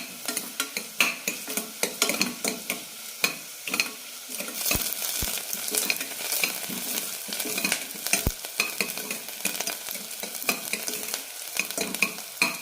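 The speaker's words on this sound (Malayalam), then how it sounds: "സവാള ചെറുതായി ചോക്കുന്നവരെ വഴറ്റിയെടുക്കാം. കൂടെ തന്നെ കുറച്ച് പുതിനയില കൂടി ഇടുന്നുണ്ട്." Onions and mint leaves sauté in a pan for a soya chunk curry, giving a steady close sizzle and crackle broken by frequent stirring scrapes, with no talking.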